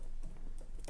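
A few quick keystrokes on a computer keyboard while typing out web page text, faint and close, isolated clicks over low room noise.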